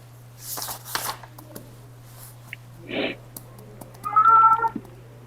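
A house cat meows indoors, a short clear call near the end following softer sounds and a faint steady hum in the background.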